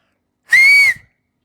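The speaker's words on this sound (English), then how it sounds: "There's a whistle. Lovely. It works." A single bright, shrill blast from a small whistle, found among jet ski gear, lasting about half a second and loud in near silence.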